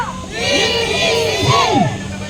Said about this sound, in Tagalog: Dito malakas ang sigaw dito.